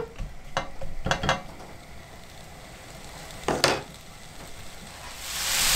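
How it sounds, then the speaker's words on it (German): Sausage fries in a pan with a steady, close sizzle, broken by a few sharp scrapes and clacks of a utensil stirring; the hiss grows louder toward the end. "und braten uns das richtig schön ab"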